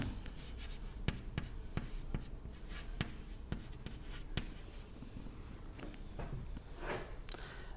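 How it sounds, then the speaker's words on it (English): Chalk or marker strokes on a board during a thin film dynamics lecture, a steady run of short scratchy taps and strokes at close range in a quiet room, with no talking over them. "let me write it somewhere"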